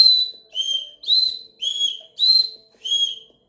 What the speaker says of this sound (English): Red card, yellow card, and the alert whistle.